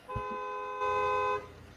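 A car horn honks nearby in one steady tone, then sounds again louder and longer, a bright sustained blare lasting under two seconds.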